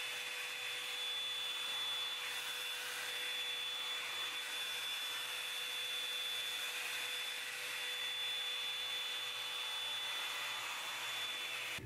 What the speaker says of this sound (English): So I try to blow dry all of the pieces towards my face and kind of like in an upwards motion.